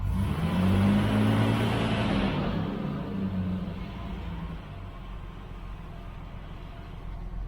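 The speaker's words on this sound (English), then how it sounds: "I think I should let it idle at that" A TB42 petrol six in a GQ Patrol, fed by a Holley 350 carburettor, runs loud and close at first, then eases down to a steady, lower idle.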